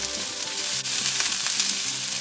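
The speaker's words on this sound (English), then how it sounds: "High heat stir frying" Loud, continuous sizzling of beef stir-frying over high heat, with crackles and faint stirring scrapes throughout.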